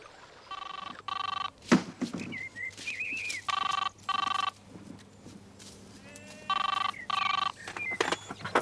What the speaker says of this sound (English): Your new toy's ringing.